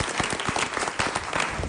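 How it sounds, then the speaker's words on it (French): A studio audience applauds a magician arriving on stage at the French Championship of Magic. Steady, dense clapping from many hands stays loud and continuous throughout, with no voices over it. "on peut l'applaudir et l'encourager"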